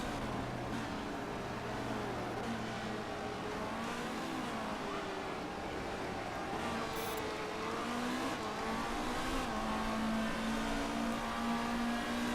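Race cars circulate in practice at Dubai in the Motorsport Manager video game, some on soft tires, producing a steady layered engine drone with gently shifting pitches, continuous and moderately loud throughout.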